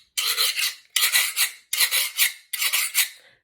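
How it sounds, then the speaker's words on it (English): A guiro scraped with a fork-like scraper in four separate strokes, each a loud, dry ratcheting rasp of about half a second, close and alone with short pauses between. "you scrape a fork-like instrument across it to make a sound. This is the guiro."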